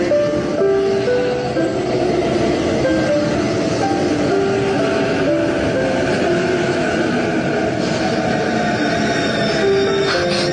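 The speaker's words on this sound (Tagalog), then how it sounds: "The next train is arriving." A passenger train pulls into a station with a steady, continuous rumble and faint squeals and hums of the cars, loud and unbroken throughout, with no voices over it.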